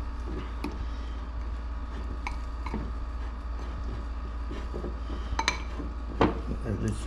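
A utensil stirs melted chocolate in a hot bowl, producing quiet, irregular clinks and scrapes against the bowl, with a louder knock near the end over a low background hum.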